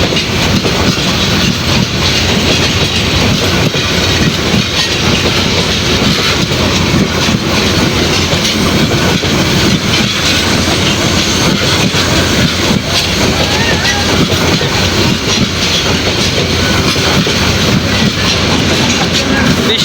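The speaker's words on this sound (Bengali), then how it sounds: "এই ট্রেনটি জয়দেবপুর রেল স্টেশনে এই মুহূর্তে থামে নাই, এটি ডাইরেক্ট চলে গেছে" A long passenger train runs straight through Joydebpur railway station in Bangladesh without stopping, a loud, steady rumble of wheels and wagons with clickety-clack over the rails and wind buffeting throughout.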